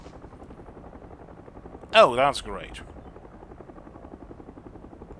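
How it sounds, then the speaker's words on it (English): A helicopter in the video game Hell is Us, a steady rhythmic rotor thump throughout, with a voice speaking briefly over it midway. "That's a helicopter."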